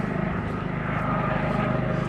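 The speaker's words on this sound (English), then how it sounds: "Oh, there goes the Stars helicopter overhead." A steady air ambulance helicopter drone fills the air overhead in Regina, a continuous low rumble with rotor-like pulsing throughout.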